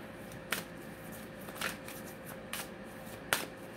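A deck of soul oracle cards is shuffled up close, with a few sharp, brief card slaps and riffles standing out at irregular intervals over quiet, steady room noise, with no talking.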